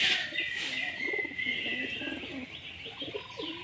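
A male pigeon coos softly in a series of low, rolling calls with faint chirps and a thin bright hiss in the background.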